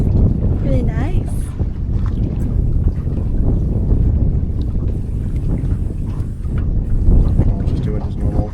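A sailboat on the Chesapeake in about a 6 mph wind, moving near 4 knots: steady wind buffeting the mic and water rushing past the hull form a continuous rumble, with some talk over it.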